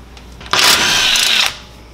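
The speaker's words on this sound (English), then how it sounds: "Using a T25 hex bit, I'm going to remove the remaining 8 screws." A power drill with a T25 bit backs out a screw during an oil change on a VW Beetle, one loud whirring burst of about a second that starts and stops sharply, close and alone.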